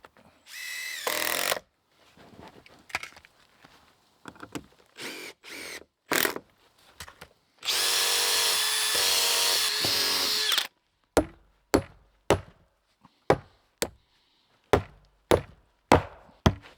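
Power drill driving lag bolts into birch poles used as staircase newel posts, with short whirring bursts, one long sustained drive, then a series of sharp repeated knocks.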